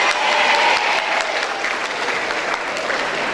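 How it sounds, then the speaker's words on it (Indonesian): A room full of high school students applauds during a university info session at UGM in Yogyakarta, loud sustained clapping from a large crowd that gradually eases off. "Tepuk tangan"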